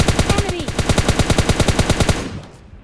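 Automatic gunfire from a battle royale video game rattles in one rapid, evenly spaced burst of about two dozen loud shots, then cuts off into a brief fading tail.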